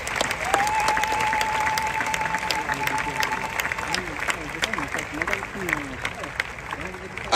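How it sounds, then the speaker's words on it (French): A crowd at a burial at the necropolis applauds loudly and steadily for the Lord, with a voice speaking over the clapping and a thin, sustained whistle-like tone in the first half. "Acclame très fort pour le Seigneur."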